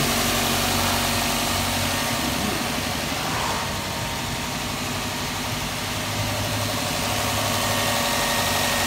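A Subaru WRX engine idles steadily with a low, even rumble and slight vibration, close and loud throughout with no talk.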